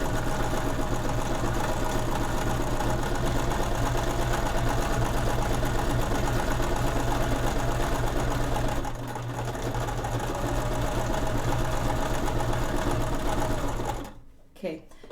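A domestic sewing machine stitches a fabric cinch pouch, its steady motor whir running loud and continuous for about fourteen seconds, with a brief dip near the middle before it stops at the end.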